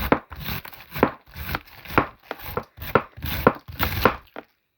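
A knife chops vegetables coarsely for red borscht in sharp, close strokes. About nine chops fall at a fairly regular pace, with short pauses between them.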